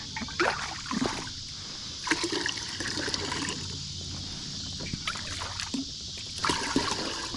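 Fresh water trickles and splashes into a kayak's bait tank out on the water at night, a steady running pour with small bumps and knocks, heard close.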